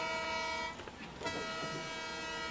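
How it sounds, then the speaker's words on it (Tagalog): Ambience at a train station: a steady rumble with sustained tonal horn-like lines, a brief dip and shuffle midway, then the drone resumes evenly. "Nandito na ako sa estasyon ng tren."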